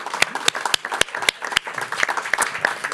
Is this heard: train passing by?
no